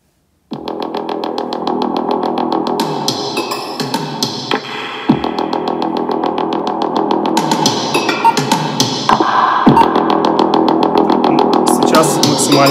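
A music track plays loudly through a MIFA A10 Bluetooth speaker, a dense, distorted mix with rhythmic percussive hits that starts abruptly and continues steadily throughout.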